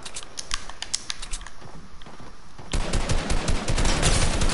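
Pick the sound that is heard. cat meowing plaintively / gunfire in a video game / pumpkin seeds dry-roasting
gunfire in a video game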